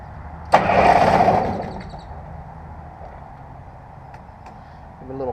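An Affordaplane light aircraft engine and propeller make a short start attempt: a sudden loud burst that sputters for about a second and fades, then a quiet stretch with faint clicks and a brief rise again at the end.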